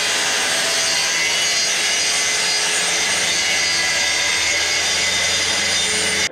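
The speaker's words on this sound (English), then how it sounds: "So I think the track saw would be the best bet." A track saw cuts through wood panel for a floating corner desk, a loud, steady rasping saw noise running without break for about six seconds and stopping at the end, with no talking.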